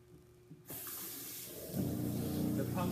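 Water from a hot water tank test runs into buckets, starting suddenly after a quiet moment and then pouring as a steady hiss that grows heavier and louder partway through.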